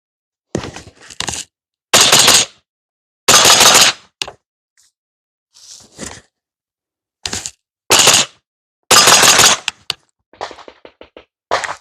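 Suppressed M4-type rifle, Dead Air Sandman S or Griffin Armament M4SD K can, firing rounds into dirt and onto steel targets: sharp, loud cracks in single shots and quick pairs separated by short silences, with no talk.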